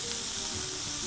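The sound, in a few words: butter sizzling in frying pan with escalopes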